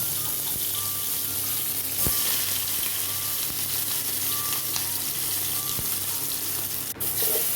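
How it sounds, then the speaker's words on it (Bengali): Japanese puti fish, coated in turmeric and salt, fry in hot oil in a kadai, giving a steady close sizzle with occasional soft pops and a faint stirring knock. "মাছ ভেজে নিলাম"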